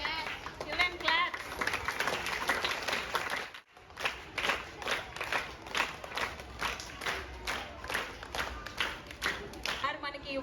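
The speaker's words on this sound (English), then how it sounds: "Children clap." Children clapping at a school prize ceremony, a steady, moderately loud patter of many small hands that breaks off briefly and then resumes, with voices mixed underneath.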